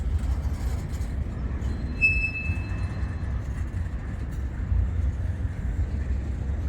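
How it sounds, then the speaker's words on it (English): A long CSX intermodal freight train rolls past at a distance, producing a steady low rumble with a brief thin wheel squeal partway through and no talking. "that really long intermodal just went around the corner"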